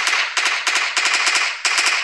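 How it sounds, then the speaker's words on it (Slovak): A firecracker banger fires a loud, fast rattling series of sharp cracks in several rapid bursts, close and continuous throughout. "Toto je iba bucha."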